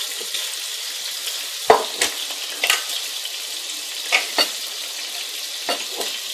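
Chicken meatballs frying in a pan with ginger, garlic and onion, a steady close sizzle broken by a few sharp scrapes and knocks from stirring.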